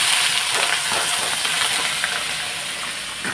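Washed potatoes poured into a hot pan for a potato and paneer curry give off a loud, steady hissing sizzle that fills the whole stretch without letting up, with no voices.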